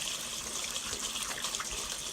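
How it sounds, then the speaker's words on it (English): Tap water gushes steadily into a refilled water jug, a close, continuous splashing rush with no talking. "Wipe it out with a paper towel to get all the gunk out. And go ahead and refill it."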